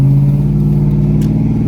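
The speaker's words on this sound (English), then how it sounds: "Now this truck is really noisy. When you hit it on the pedal," Pickup truck with a tuned 450 HP LS V8 from Summit Racing roars at steady high revs, a loud, close, continuous deep engine drone with a strong low rumble throughout, no voices.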